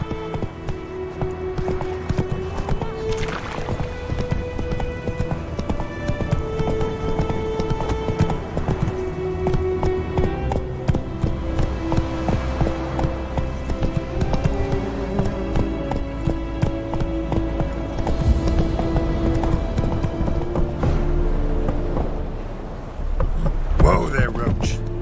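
Geralt's horse Roach gallops in The Witcher 3, a steady rhythmic clip-clop of hooves running continuously beneath game music and ambient sound, with a brief voice near the end.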